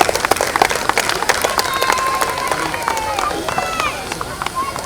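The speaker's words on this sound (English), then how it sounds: "Let's give a big cheer and a loud applause for Sonu Sood." A crowd at a cricket stadium league opening applauds and cheers, with a fast, dense patter of clapping and raised voices close by, and talk mixed in.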